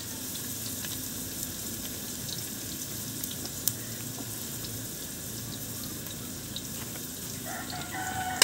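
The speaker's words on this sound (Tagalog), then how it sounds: "So igisa muna natin itong isdang talakitok bago lagyan natin ng sabaw." Talakitok fish sizzles steadily in a pan with garlic and ginger during a sauté, a constant frying hiss throughout with fowl-like calls faintly in the background.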